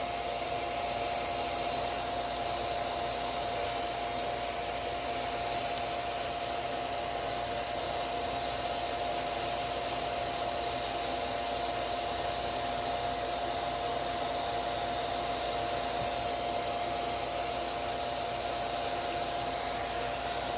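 A vacuum cleaner hums steadily while cleaning dust out of a dirty sewing and embroidery machine, a constant close whine with faint rubbing knocks and no voices.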